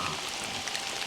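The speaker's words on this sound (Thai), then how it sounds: "ท่ามกลางฝนตกฝนลิ่น" Rain falls steadily in a remote village, a dense, even hiss of drops filling the short moment with no voices.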